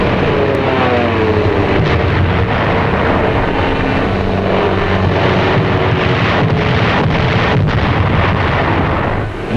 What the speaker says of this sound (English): Jap suicide pilots attempt to crash their planes into our ships